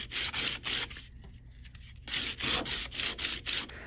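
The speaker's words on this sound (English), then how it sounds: "Unlike a file though, sandpaper can work both ways." Sandpaper rubbed back and forth on a piece of jewellery, close rasping strokes in a quick rhythm with a short pause midway.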